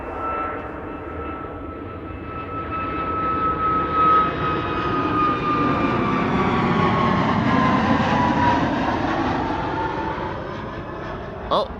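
An Air Baltic airliner departs Amsterdam Schiphol on a sunny winter day, its jet engines roaring and swelling steadily louder with a thin whine on top, then holding a broad sustained rush.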